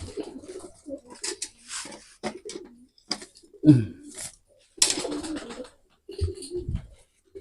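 Caged pet birds, breeding pairs with a fresh egg, give low soft coos in short bursts between rustles and knocks nearby, fairly close and moderately loud, with a few brief voices.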